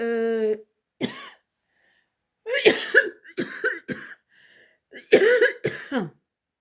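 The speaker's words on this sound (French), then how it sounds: "c'est pour ça que je tousse beaucoup en ce moment" A person with early whooping cough coughs repeatedly in harsh, raspy bursts separated by short pauses, close to the microphone, with a brief vocal sound at the start.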